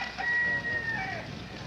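A rooster crows while chickens cluck from a backyard flock, a brief crow up front with faint clucking under steady background noise.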